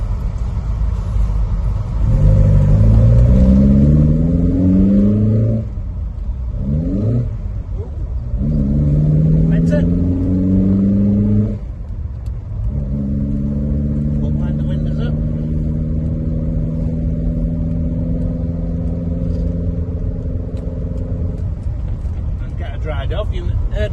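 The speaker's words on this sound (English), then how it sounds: "You heard me miss a gear then." A car engine revs up through the gears while driving, with a missed gear shift. Rising, droning engine notes are broken by brief drops between shifts, loud and close from inside the cabin.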